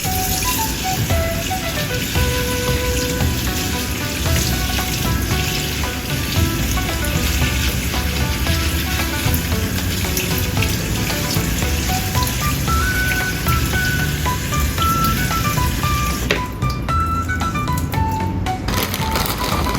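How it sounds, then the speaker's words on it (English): Barley being washed in water in a kitchen for a soy ginkgo barley dessert, a steady close trickle and patter of water with small clinks and splashes throughout, no voices. "Barley wash and set aside."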